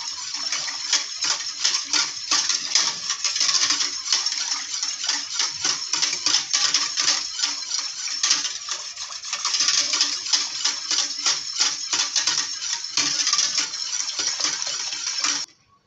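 A spoon stirs flan drink mixture in a metal pot, making rapid, steady metallic clinks and scrapes that run close and loud without pause for about fifteen seconds before stopping abruptly.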